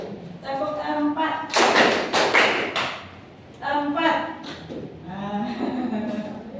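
A classroom of students claps a quick cluster of about four sharp, loud claps in unison, framed by a teacher's talking before and after.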